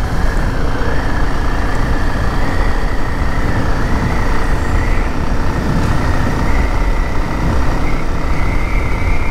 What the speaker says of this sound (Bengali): আমি বাইকটা 50 স্পিডে চালাচ্ছি।